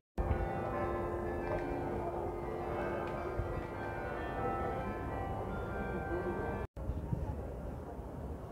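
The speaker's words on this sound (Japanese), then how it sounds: "鐘が鳴ってますね。" Church bells ring continuously in a street in Bruges, their steady tolling sitting over busy outdoor ambience with a brief cut near the end.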